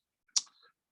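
A single crisp computer mouse click sounds close and alone in near silence, a sharp tick with a faint brief rattle trailing after it.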